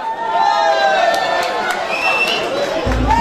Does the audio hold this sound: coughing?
no